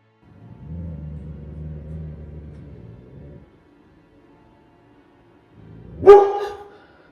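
An uneasy dog barks once near the end, a sharp close bark after a low steady rumbling hum and a stretch of near silence.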